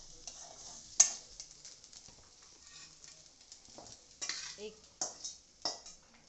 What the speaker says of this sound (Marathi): तेल घालायचे 1 चमचा. पुन्हा तेलावर परतून घ्यायचे छान.